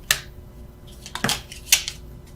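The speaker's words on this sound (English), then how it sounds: "I was just shuffling for the sake of it." Tarot cards are shuffled in three short, crisp, papery bursts spaced about a second apart, quiet and close, with no talking.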